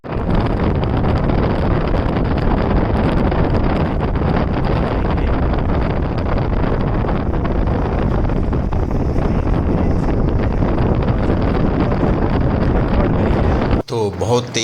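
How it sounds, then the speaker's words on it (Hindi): Strong wind buffets the microphone in fog-covered mountains near Munsiyari, a loud, continuous low roar that fills the whole stretch and cuts off abruptly near the end. "बहुत तेज़ हवा चल रही है"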